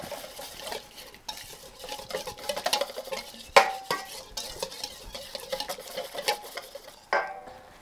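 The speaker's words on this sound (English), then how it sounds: "Squeeze that in. And then give that a little whisk." A whisk stirs freshly squeezed lemon juice into a creamy caesar dressing in a bowl, a close, quick scraping and clinking that runs in uneven bursts with no talk.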